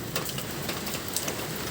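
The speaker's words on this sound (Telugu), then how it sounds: "ఈరోజైతే భగవంతుని దయ వల్ల వర్షం అయితే 1 hour నుండి బాగా గట్టిగానే కురుస్తుంది" Heavy rain pours steadily, a dense continuous hiss of drops striking surfaces with scattered louder patters, close and even throughout, no voices.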